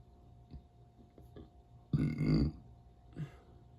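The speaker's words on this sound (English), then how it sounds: "that's my outro as a burp." A single deep, gurgling burp, about half a second long, rises out of a quiet room with a few faint taps around it.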